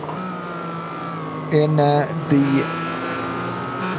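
Onboard an SP10-class race car being lapped by a BMW, a steady engine drone with a brief louder whining pass of the other car, while a commentator talks over it.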